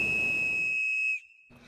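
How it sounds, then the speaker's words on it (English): In the visual novel game eden*, a clear, high-pitched whistle-like tone rings out loud and steady for about a second, then cuts off abruptly, leaving faint background sound. "a clear, high-pitched sound like a whistle echoed nearby."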